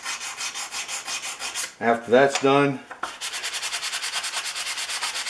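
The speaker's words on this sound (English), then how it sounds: "I can use my sanding stick and hold it perfectly flat and run it in the same direction" Sanding stick rubbed flat along the sides of a Stanley No. 148 match plane, following the machine marks: close, steady back-and-forth rasping strokes in an even rhythm, with a brief pause for someone speaking.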